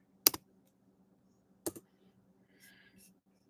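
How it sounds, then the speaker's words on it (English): Computer mouse or keyboard clicks on a computer, two crisp double clicks spaced over a second apart in a quiet room with a faint hum, followed by a soft rustle. "I was just clicking over here because their main site is not"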